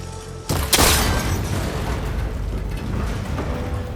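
In the open-world game Horizon Forbidden West, a shot strikes a cable connector, a sudden loud impact followed by a sharp crack and a grinding, mechanical rumble as the cables break loose.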